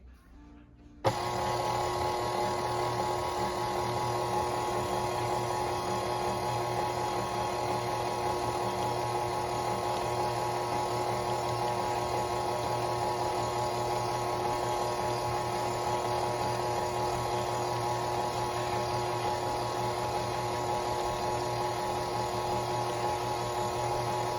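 An electric mixer with a hook attachment stirs butter cake batter for chess bars, switching on abruptly and then running as a steady, even motor whine and hum with no talk.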